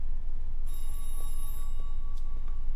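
An old-fashioned telephone bell rings in the L.A. Noire video game, a bright metallic trill in a couple of bursts over a low steady room hum.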